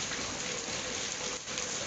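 Heavy rain pours steadily in a dense, hissing wash that stays loud and even, with no voices over it.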